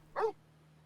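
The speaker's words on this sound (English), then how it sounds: "Bark, bark." A dog in the video game Final Fantasy XIV gives a single short, soft bark over a low steady hum.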